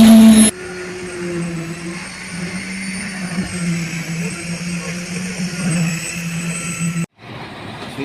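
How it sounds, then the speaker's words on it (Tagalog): A concrete line pump runs during a second-floor concrete pour on a construction site, giving a loud, steady mechanical drone with a whining tone. The drone cuts off abruptly near the end, and no one speaks. "So line pump lang yung gamit para hindi naman masyadong sagabal dito."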